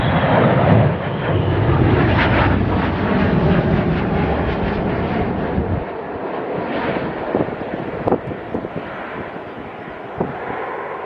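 Red Arrows jets landing at RAF Waddington at dusk, a loud broad roar of jet engines with heavy wind buffeting that fades after a few seconds into a quieter rumble with scattered knocks.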